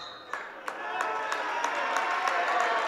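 A home crowd in a gym at a girls high school basketball game between Hazen and Oxbow applauds and cheers in a steady wash, with sharp clap-like transients popping through at regular intervals and a voice talking over it.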